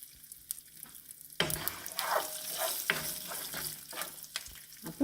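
Quiet kitchen noise, then a sudden loud sizzle as asafoetida and dried red chillies hit hot oil, crackling and spitting steadily with a few stirring clinks.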